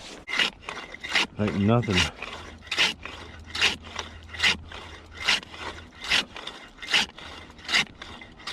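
A homemade ice saw rasps through thick lake ice in a steady rhythm of about a dozen loud, close back-and-forth scraping strokes, with a voice speaking briefly early on.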